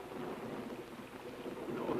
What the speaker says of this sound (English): If you step out into that downpour